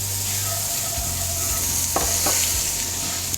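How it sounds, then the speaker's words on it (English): Onion and garlic sweating in an oiled pan, a steady hiss of frying with a couple of soft stirring scrapes near the middle, close and alone. "I'm gonna do my onion and garlic first. Let that sweat a little bit,"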